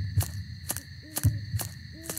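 Low, muffled heartbeat thumps recur in a slow pulse under a steady synthetic drone and whooshing ambience in the horror video game Hylophobia.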